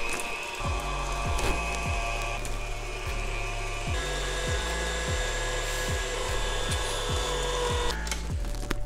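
A motorized meat grinder works through Wagyu A5 beef, a steady mechanical whine with a rhythmic low churning thump repeating roughly every half second, close and continuous with no talking.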